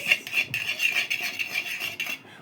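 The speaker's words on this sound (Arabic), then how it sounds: "حطينا بيضتين وهنقلبهم كويس" Two eggs are whisked for a breading marinade, making quick, steady clinking and tapping against the bowl in a rapid rhythm, close and fairly loud, with no talking.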